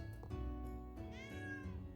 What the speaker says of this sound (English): A cat has wandered into your tavern.